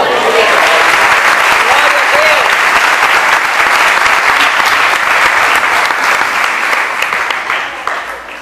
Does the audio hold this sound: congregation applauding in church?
yes